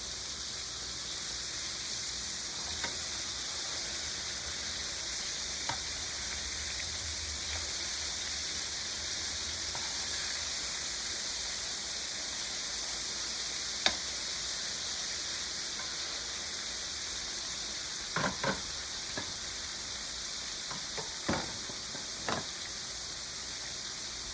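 Liver sizzling in a frying pan, a steady soft hiss throughout with a few brief clicks and pops, fairly quiet and with no one talking.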